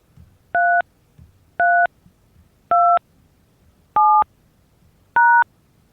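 Five separate telephone keypad tones entering a conference call passcode, each short beep evenly spaced about a second apart, clear and alone against a faint background.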